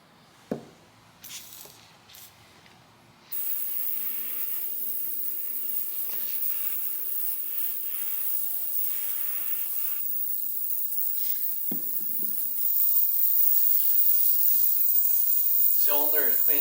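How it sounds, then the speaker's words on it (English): An ultrasonic cleaner works on a chainsaw cylinder. A few seconds of light handling noises come first, then a steady, close hissing buzz sets in and grows somewhat louder toward the end. "Cylinder is cleaning up pretty nicely in ultrasonic cleaner."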